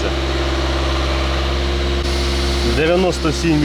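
Opel Vivaro van engine idling steadily during diesel particulate filter regeneration, a constant low drone throughout, with a voice speaking over it near the end.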